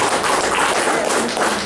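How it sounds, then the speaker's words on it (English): Audience applauding at an academic excellence event in Dominica, dense close clapping sustained at full strength with no talk over it. "So a round of applause for Trudy because she's very shy."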